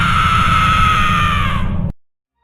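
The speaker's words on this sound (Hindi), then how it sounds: "कार के अंदर की लाइट बंद हो गई और कार से केवल चीखें सुनाई दे रही थी।" A sustained, loud scream from inside a car on a highway at night in an animated Hindi horror story, held steady for nearly two seconds over a low rumble, then cut off abruptly into silence.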